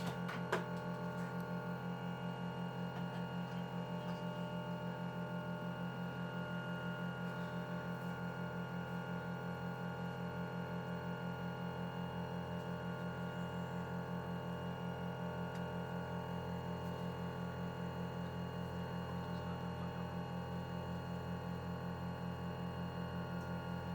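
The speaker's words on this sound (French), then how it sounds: "on va pouvoir lancer le système de soudure" A CPU soldering rework system runs with a steady electrical hum and faint tonal whine, constant and even in level, unchanged from start to finish with no voices.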